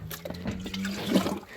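Water pours briefly in a dairy barn for young calves, a short splashing gush heard close by with no talk over it.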